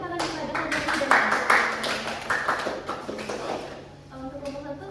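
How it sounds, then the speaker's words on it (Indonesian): Classroom audience clapping for presenters, scattered hand claps under a voice that speaks over most of the stretch, with the clapping thinning out toward the end. "Berikan tepuk tangan kepada peserta."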